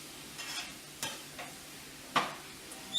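About two cloves of minced garlic are stirred in a hot pan, giving soft scraping strokes and light utensil taps over a faint, steady sizzle, close by, with no talking.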